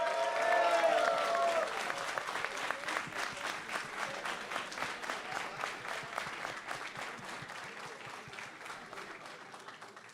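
A crowd clapping at an esports LAN event, steady rhythmic applause that opens under a cheer or voice and slowly fades across about ten seconds.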